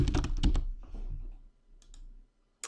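A short burst of computer keyboard typing while a word is entered into a C# beginner app, with several quick close clicks at the start, then sparser faint taps and quiet gaps.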